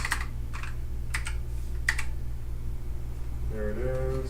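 Computer keyboard typing, a few sparse clicks and short bursts of keystrokes, close and clear over a low hum, with a voice starting at the end.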